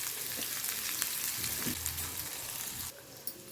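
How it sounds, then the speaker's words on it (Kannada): Ginger frying in a pan at home while palak paneer is prepared: a steady, close hiss of oil sizzle runs throughout with a few soft stirring scrapes and no voices. "ಅದ್ರ ಜೊತೆಗೇನೆ ಅಲ್ಲನೂ ಸೇರಿಸ್ಕೊಂಡು ಫ್ರೈ ಮಾಡಿ"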